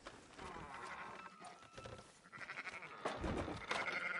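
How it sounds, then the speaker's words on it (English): Sheep bleat in a Red Dead Redemption 2 farm scene, several short wavering calls rising over a busy background of game ambience and murmured voices, louder near the end. "Fine sheep."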